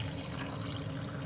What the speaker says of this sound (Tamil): இப்போ வெதுவெதுப்பான தண்ணி இப்போ இதில் கலந்துக்கிடுவோம்.